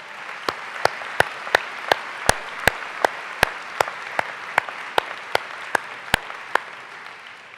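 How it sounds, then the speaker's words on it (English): At a West Virginia University School of Medicine commencement, audience applause carries along with distinct, evenly spaced sharp claps standing out above a softer wash of clapping, sustained for several seconds. "So please give Dr. Cottrell a round of applause."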